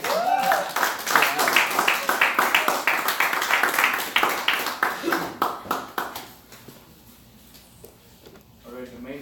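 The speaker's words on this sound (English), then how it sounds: "please, one more round of applause for Sriram and Vidya." Audience applause at a community event, a burst of clapping hands lasting several seconds that thins out and fades, with a few scattered claps and quiet room noise at the end.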